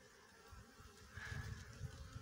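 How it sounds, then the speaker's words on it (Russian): A faint, low buzz of honeybees flying near a hive on a 12-degree February day, their drone rising and falling softly against a quiet outdoor background. "пчелы летают"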